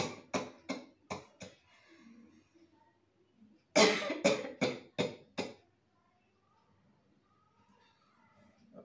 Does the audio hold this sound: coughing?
yes